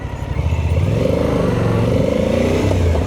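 A Suzuki V-Strom motorcycle engine drones loudly and steadily while riding, its pitch rising slightly as it pulls, mixed with wind rush and no clear speech.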